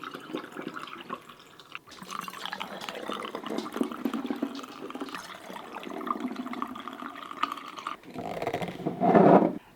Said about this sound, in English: I have filled up all the bottles